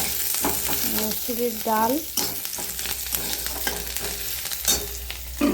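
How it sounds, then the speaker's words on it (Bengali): Onion tempering sizzles steadily in a pan of cooked masoor dal, a close, continuous hiss with occasional stirring clinks while a voice speaks briefly over it. "এই ডালটা দেখো পেঁয়াজ ফোড়ন দিয়ে"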